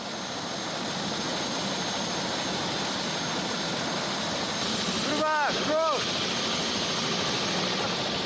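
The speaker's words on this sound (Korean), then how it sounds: "부상이 가장 심각한 프로바 쉘파를 위해 도시에서 헬기를 불렀다." Rescue helicopter in the Himalayas, its steady broadband rotor and engine roar filling the whole clip, loud and constant, with a brief swelling whine near the end.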